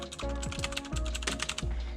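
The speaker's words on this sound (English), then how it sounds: "we got very loud switches in this keyboard" Rapid, clacky keystrokes on a loud mechanical keyboard, close by, in quick uneven bursts.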